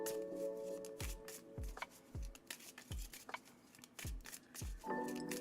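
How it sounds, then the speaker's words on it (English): Tarot cards shuffled in a steady rhythm, about seven crisp riffle bursts spaced under a second apart, close and fairly quiet, with faint background tones and no talking. "it's the card shuffling ASMR"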